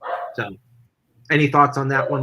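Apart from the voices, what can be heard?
dog barking in the background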